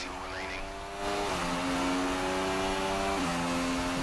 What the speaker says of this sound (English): Look at the power of that Merc engine.